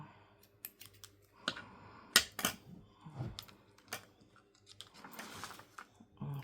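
Scissors snipping through paper for a junk journal tag book, a quick series of crisp, close cuts in irregular bursts with small rustles and handling noises between them.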